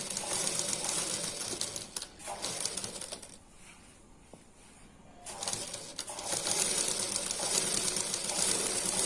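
A domestic sewing machine runs a half-inch seam along a blouse collar, a steady fast mechanical rattle with a brief slowdown in the middle before it picks up again, with no talking.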